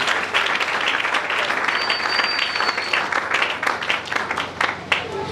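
A church congregation applauds loudly in praise of the Lord, a dense, steady wash of many hands clapping close by, with a few scattered voices and cheers mixed into the crowd.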